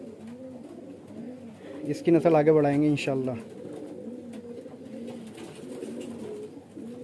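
A medium-sized highflyer pigeon hen coos softly and repeatedly close by, a low rolling call running through the whole stretch while someone talks over it in Hindi-Urdu.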